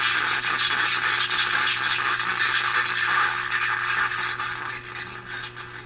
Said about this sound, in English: you can hear the radio playing here on one of the local stations. We've got that crazy distortion